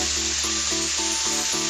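Galunggong fish frying in a pan, giving a loud continuous sizzle with a rhythmic pulsing hum beneath it, close and steady, with no talk.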